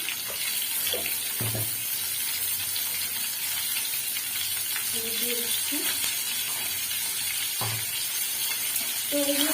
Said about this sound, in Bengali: তো আলুগুলো একদম ভালো করে ডিপ ফ্রাই করে আমি ফিরে আসছি